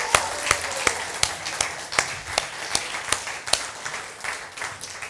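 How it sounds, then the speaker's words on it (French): Audience applause for a youth worship group at a church gathering, a steady run of sharp claps forming a lively, fairly near round of clapping with no talk over it. "Est-ce qu'on peut donner une super main d'applaudissement au groupe de jeunes là, qui nous a fait une louange en feu?"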